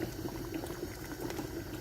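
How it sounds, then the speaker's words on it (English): A water bath canner at a rolling boil with jars of low-sugar peach jam inside, bubbling and churning steadily and fairly loud up close, with no one talking. "I got the water bath canner boiling with my jars in it"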